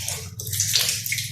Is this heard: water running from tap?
yes